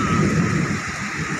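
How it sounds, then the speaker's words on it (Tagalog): Thunder rumbles beneath a loud, steady downpour of very heavy rain during a thunderstorm over Makati, with a dense continuous hiss of rainfall throughout and no voices. "napakalakas ng ulan."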